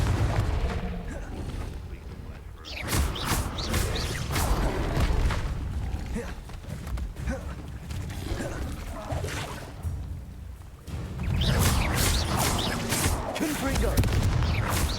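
Confringo blast spells explode repeatedly during combat in Hogwarts Legacy, a series of loud booming bursts with crackling debris over a continuous din of battle and game music, with a voice shouting alongside.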